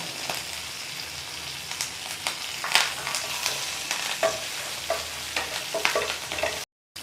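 Green chillies and curry leaves frying in a pan, stirred with steady scraping clicks over a continuous close sizzle, with no talk.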